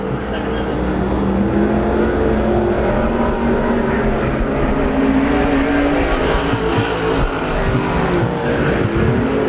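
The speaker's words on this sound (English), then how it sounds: "So Madrid knows when it's time to step on the loud pedal and drive away from these racers." IMCA stock cars racing on the dirt oval at Arizona Speedway, engines roaring loudly and continuously as the pack circles, with a public-address announcer talking over the steady motor noise.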